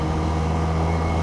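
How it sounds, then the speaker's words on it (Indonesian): Benelli Patagonian Eagle Motobi 250 motorcycle engine at a steady drone with a sport-bike-like multi-cylinder tone, close and continuous, no voices. "Kan bunyinya gini, 3 silinder ke atas mungkin lah ya."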